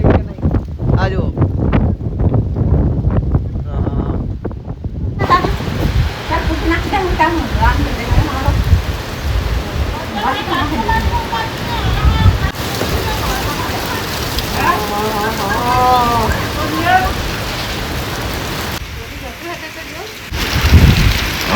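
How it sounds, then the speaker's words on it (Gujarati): Gusting cyclone winds buffet the microphone as rain begins to patter, with rumbling roars throughout and voices talking over the storm noise. "બહુ ડેન્જર પવન યાર. અચાનક એકથી વારે ચાલુ થઈ ગયું છે આ બધું. વરસાદ બી આવવાનો છે."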